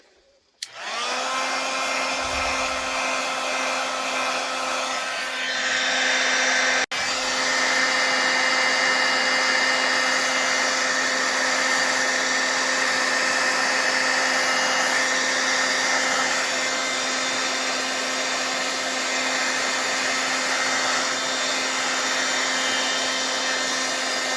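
A heat dryer blows steadily and loudly for over twenty seconds, a constant whirring hum drying Distress Oxide ink on a Christmas card, with no talking.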